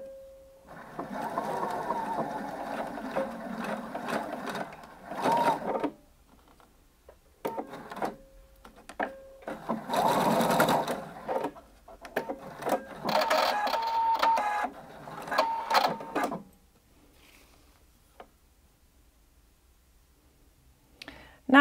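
A sewing machine tacks elastic to the raw edge of skirt fabric for a midi skirt. It runs in several bursts of rapid stitching with quiet pauses and clicks between them.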